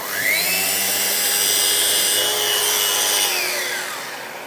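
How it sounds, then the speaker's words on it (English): A power sander runs with a steady, close whirring hum over wood, its pitch shifting slightly as it is lifted off the surface before it begins to wind down at the end; no voices. "always lift your sander when you're done sanding and then put your machine off afterwards"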